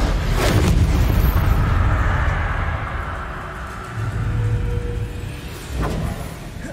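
A Confringo fire spell goes off in the game Hogwarts Legacy, a heavy booming blast followed by rumbling decay, with a second thud several seconds later.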